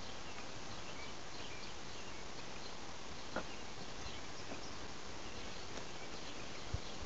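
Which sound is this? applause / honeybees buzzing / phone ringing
honeybees buzzing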